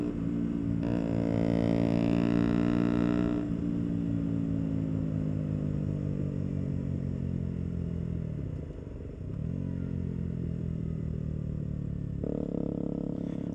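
Motorcycle engine growling steadily while riding, with rising and falling revs, sustained gear pulls and a brief dip before the engine picks up again.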